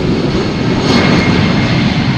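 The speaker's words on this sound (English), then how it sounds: "in the meantime, an Airbus from EasyJet took off" An EasyJet Airbus jet taking off from runway 36L at Amsterdam Schiphol, a loud, steady, broadband engine roar that fills the whole clip at close range, with no talking.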